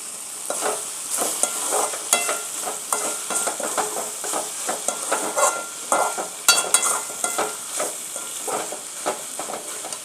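Steady crackling sizzle of tomatoes sautéing in a pan, with frequent scraping and stirring sounds from a utensil, close and fairly loud, no talking.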